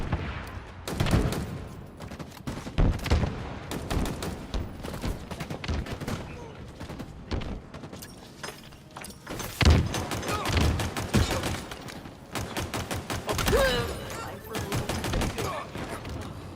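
Rapid gunfire from a weapon in the shooter Halo Infinite, bursts of sharp shots in clusters with pauses between, loud and close, with someone talking over parts of it.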